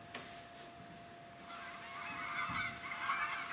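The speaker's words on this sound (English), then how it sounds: "Those are geese." A flock of geese honking somewhat faintly in the distance outdoors, the calls building into a steady overlapping chatter after a quiet start.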